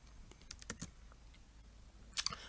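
Several quick, faint computer mouse clicks tick in a short cluster, followed after a pause by a couple more clicks, all in a quiet room during work in CorelDRAW.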